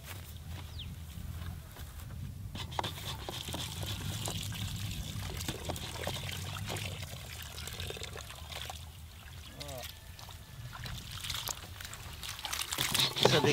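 Water pours and trickles outdoors while shrimp is prepared for cooking in the wild, faint and intermittent under quiet background talk, with occasional birds.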